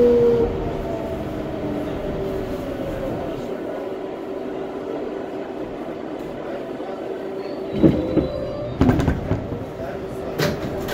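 A New York City R142A 4 subway train rumbles steadily with a low tonal hum, then clatters and clanks louder toward the end as it moves along the track.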